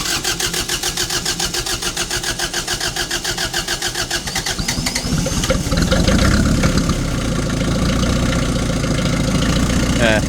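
Kubota B2150 compact diesel tractor engine cranking with rapid rhythmic starter pulses for about five seconds, then catching and settling into a steady, loud, close idle.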